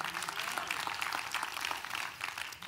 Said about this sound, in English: Come on, clap your hands right there to the Lord with you.